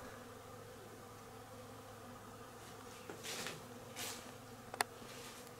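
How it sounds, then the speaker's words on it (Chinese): Bees collect nectar from flowers on a mountain trail, a faint continuous buzz with a few brief passes closer by, heard alone. "这里很多蜜蜂来采这个花了"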